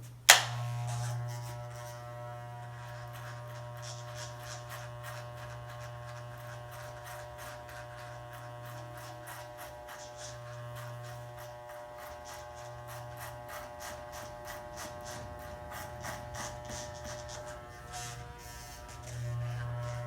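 Electric hair clippers with a number 2 guard cutting hair during a low fade, a steady low buzzing hum that runs throughout, close and moderately loud, with no speech.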